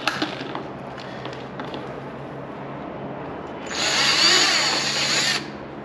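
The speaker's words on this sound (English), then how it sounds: "I didn't tell Jennifer that we were drilling holes in her car today." A power drill bores holes into the body of a Cadillac CTS-V Sport during a conversion kit install, a steady high-pitched whine lasting under two seconds, near and loud against quiet room tone.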